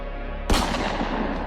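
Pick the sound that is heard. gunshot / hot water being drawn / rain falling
gunshot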